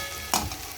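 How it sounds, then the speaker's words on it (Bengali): Onion and capsicum frying in a wok of oil tempered with cumin, bay leaf and dried red chilli, a quiet steady sizzle with one brief louder stir near the start. "পেঁয়াজ, ক্যাপসিকাম দিয়েছি, তা ভাজা চলছে"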